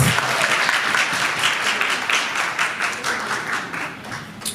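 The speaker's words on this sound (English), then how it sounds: "Let's give Kaylisa another round of applause, please." Workshop audience gives a presenter another round of applause: close, lively clapping with distinct individual hand claps that rise and fall slightly in intensity, with no talking.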